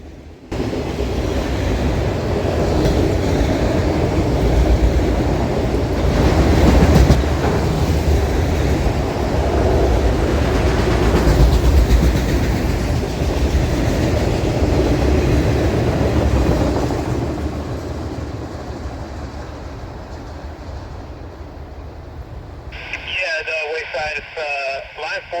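A CSX freight train with autorack cars rolls past on the Fort Wayne Line, a loud sustained rumble and clatter of wheels that fades after about seventeen seconds, followed by crackly radio chatter.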